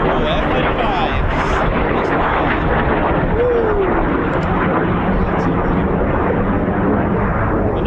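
F-35 fighter jets flying in the circuit at RAF Lakenheath, a loud continuous jet roar filling the whole stretch, broad and rumbling as the aircraft pass.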